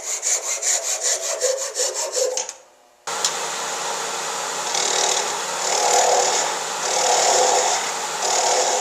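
A handsaw cutting excess wood off a turned wooden knitting needle, rhythmic rasping strokes up close, a brief pause, then steadier continuous sawing with swelling passes.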